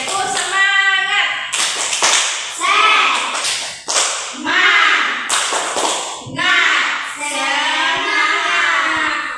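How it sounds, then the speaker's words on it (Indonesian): An elementary class performs a rhythmic spirit clap (tepuk semangat), with sharp, loud handclaps in a patterned beat alternating with children's voices chanting in unison. "Tepuk semangat."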